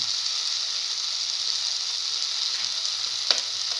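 A pan of egg and tomato mixture, seasoned with cinnamon, sizzles in an even, continuous hiss at moderate volume, with one brief sharp crackle near the end.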